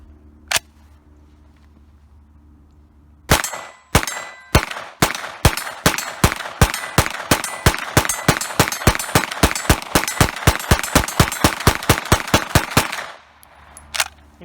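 Rapid semi-automatic shots from a PTR 9KT, an MP5K-style 9mm clone, fired in a long steady string of about thirty sharp, loud cracks at an even rhythm, with a lone shot before and quiet range ambience around it.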